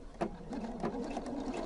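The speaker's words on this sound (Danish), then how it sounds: "Og så syr jeg sidesømmen her på samme procedure." A sewing machine stitches a side seam of a two-sided plush vest, running continuously at close range with a steady whirring hum and rapid needle rhythm throughout.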